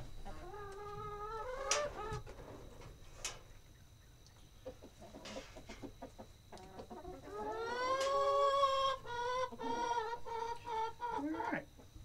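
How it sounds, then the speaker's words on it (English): Chickens at a farm cluck and squawk in scattered bursts, with a louder run of cackling later, moderately close over low background noise. "There, chicken."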